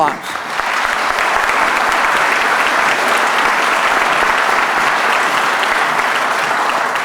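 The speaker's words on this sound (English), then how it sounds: "how about a round of applause?" Audience applauding at a police academy graduation ceremony, a steady, dense wash of clapping from a large crowd that holds at full strength for about seven seconds.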